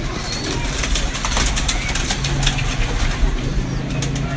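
Breeder pigeons of the Taddy and Mochay lines coo steadily in a loft, low repeated murmurs mixed with wing shuffles and background clatter, fairly close.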